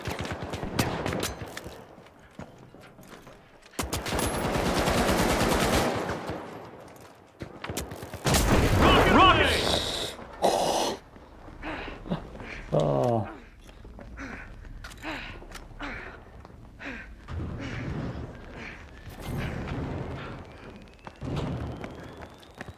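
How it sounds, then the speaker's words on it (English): Game audio from the shooter The Finals: bursts of loud gunfire and thuds, with a sharp blast and ringing aftermath like a flashbang going off, followed by scattered mechanical clatter and footsteps. "Using a flashbang."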